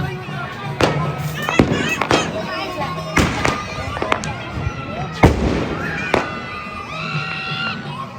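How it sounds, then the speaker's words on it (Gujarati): Firecrackers and fireworks burst at night during the Uttarayan kite festival, sharp loud bangs going off irregularly near and far, with crackling sparkle and a crowd murmuring in the background. "સાંજ પડી ગઈ છે તો ફટાકડા ફૂટી રહ્યા છે"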